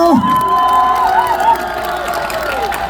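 A festival crowd at a Sangju small-business festival cheers and whoops after a trot singer's set, loud shouts and high voices over scattered clapping, a short lively burst.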